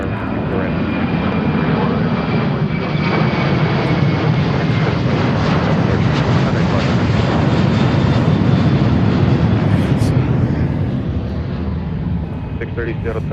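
A jet airliner takes off from runway 24 right at Seattle airport. Its engines give a loud, steady, broadband roar that holds for the whole stretch.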